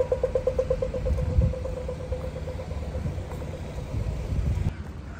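A loud car engine passes near a city park, a steady throaty drone swelling and fading with some traffic rumble over a few seconds.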